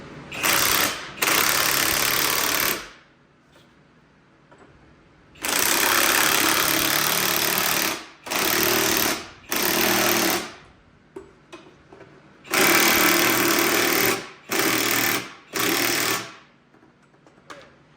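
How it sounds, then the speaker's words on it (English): Impact wrench tightening nuts during a lift install on a 2023 Ford Raptor, loud close bursts of hammering rattle in several runs of varying length separated by short pauses. "Now I use an impact because I don't really care, but do as you must."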